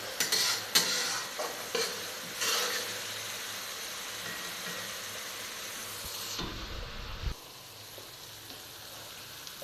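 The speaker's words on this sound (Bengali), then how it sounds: "তেলটা ছেড়ে দিয়েছে, এখন মাংসটা দেওয়া হচ্ছে।" Chicken pieces dropped into hot oil in a pan set off a loud, steady sizzle, with stirring and metal scrapes against the pan early on and a sudden burst of spitting near the end.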